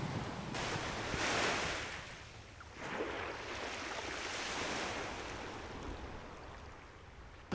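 Ocean tide waves surge and wash over the sandbar at Charles Island in broad, rolling swells. Steady wind buffets the microphone throughout, and there is no talk.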